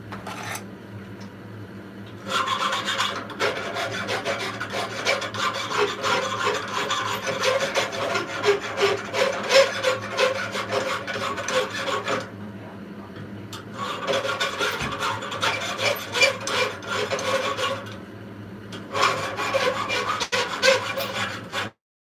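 A file rasps across a hand-forged steel bottle opener in long rhythmic strokes, working in three extended bursts separated by short pauses, close and loud.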